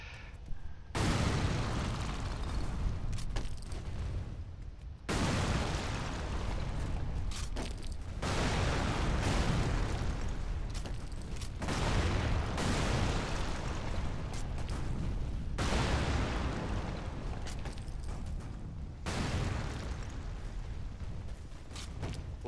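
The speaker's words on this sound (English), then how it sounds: "Bazooka! No, rocket launcher!" Rocket launcher blasts in the action game Lara Croft and the Temple of Light, a series of heavy booming explosions about every three to four seconds, each a loud broadband burst decaying into rumble.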